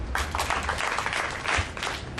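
Steady audience applause, many hands clapping at a moderate, even level for a couple of seconds with no talking.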